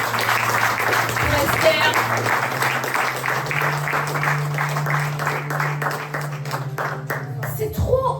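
A church congregation claps steadily in a dense, continuous burst over a sustained keyboard tone, while a voice speaks over the applause.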